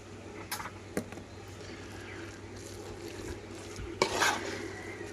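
Beef bhuna khichuri with green chillies, raw mustard oil and ghee stirred in a pot: a soft continuous stirring rustle with a steady low hum, and a few sharp clinks of a spoon against the pan.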